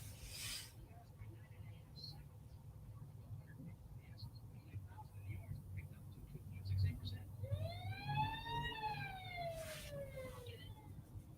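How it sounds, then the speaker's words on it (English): A distant emergency siren wails, rising and falling in a long sweep, over faint background murmur and shuffling. "What's the siren for?"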